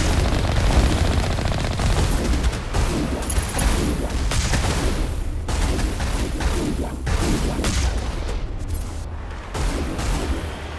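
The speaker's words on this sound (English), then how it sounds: "How about you stop shooting me?" Sustained gunfire in Mass Effect: dense, continuous bursts of automatic shots crackle and thud throughout, loud and close, with scattered heavier booms layered into the battle din.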